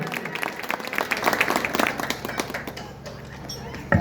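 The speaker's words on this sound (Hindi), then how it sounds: "एक बार जोरदार ताली बजाइए।" Applause and clapping from a crowd greeting the chief guest, a block chief, being welcomed with a garland at a public function; a dense burst of claps swells for a few seconds, then thins out, with voices mixed in.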